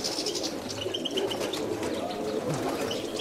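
Racing pigeons coo softly amid a busy outdoor background in Kozani, with a few short chirps and some indistinct voices nearby.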